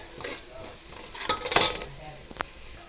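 A spoon scrapes and clinks against a pot while chicken curry with turmeric is stirred, a few close metallic knocks and scrapes over a faint simmer.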